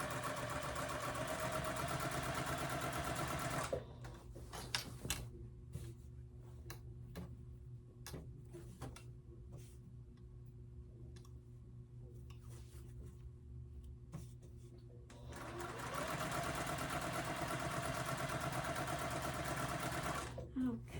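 Sewing machine seaming the sides of a quilt backing, running in two long steady stretches at the start and end, with a quieter gap of clicks and handling noises between them, fairly faint.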